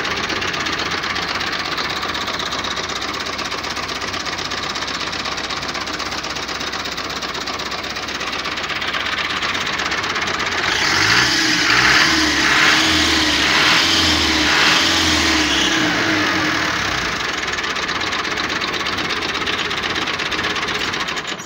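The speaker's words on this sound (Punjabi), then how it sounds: "ਤੁਸੀਂ ਆਵਾਜ਼ ਵੀ ਚੈੱਕ ਕਰ ਲਈ, ਟਰੈਕਟਰ ਦੀ ਬੜੀ ਅੱਛੀ ਆਵਾਜ਼ ਵੀ ਹੈ।" A 2018 New Holland Dabangg 85 tractor's diesel engine runs steadily with a rough knocking rumble, swelling louder for several seconds mid-clip before settling back to a steady idle, with no talking.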